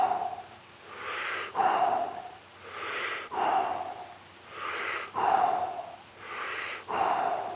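Heavy, deliberate mouth breathing during a live breath-fitness exercise, with five long rhythmic cycles of loud rushing inhales and exhales close to the microphone and no talking.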